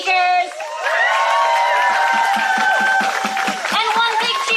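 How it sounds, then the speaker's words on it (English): An outdoor rally crowd bursts into sustained applause and cheering for its speakers, with dense clapping, whoops and shouting voices holding steady for several seconds. "we're going to give one more giant round of applause for our amazing speakers"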